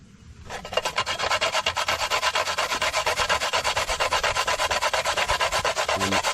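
A coconut is grated by hand on a very sharp grater outdoors, producing fast, regular rasping strokes, loud and close, that start after a moment and continue steadily throughout.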